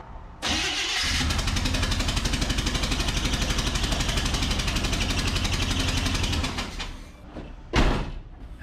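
A 1976 GMC Sierra truck engine, missing the spark plug in cylinder two, idles roughly with a fast, uneven chugging beat, loud and close, then sputters and stops.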